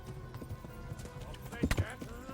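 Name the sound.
horse galloping in the video game Kingdom Come Deliverance II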